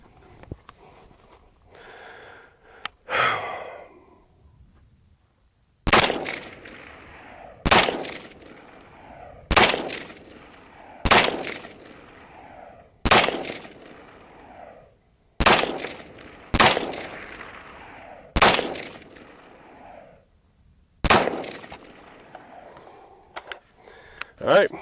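An EMR-1 rifle fires about ten loud, sharp shots at a target, spaced a second or two apart with an echoing decay after each, following some quiet movement at the start.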